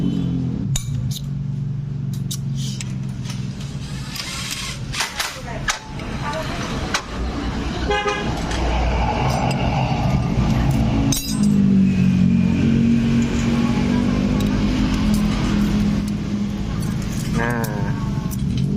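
A Yamaha XSR 155 motorcycle with a rough-running engine idles and revs steadily up close, a continuous mechanical drone with metallic ticking, while a person talks over it.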